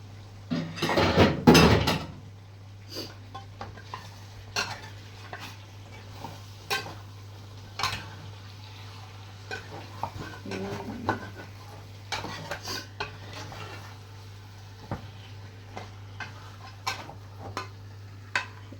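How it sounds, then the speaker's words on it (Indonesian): Patin fish heads sauté with spice paste in a pan, opening with a brief burst of frying noise, followed by sparse clinks and scrapes of stirring at a quiet, intermittent pace. "Kita tumis sekarang sama bumbunya."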